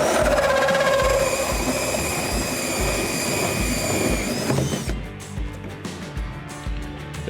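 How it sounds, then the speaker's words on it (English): A hole saw bores an opening in the rear deck of a Hobie Mirage Passport 12.0 kayak, a loud, steady high-pitched whine of cutting that cuts off partway through, leaving quieter clattering handling noise. "Use my hole saw to create the opening, which will make it easier to start my cut with the jigsaw."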